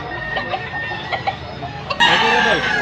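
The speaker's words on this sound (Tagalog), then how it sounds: "Ready to fight na sa ni manuka." A two-year-old white-legged gamecock rooster at a fowl sale in Cebu crows loudly close by, with clucking and background voices, the crow swelling near the end.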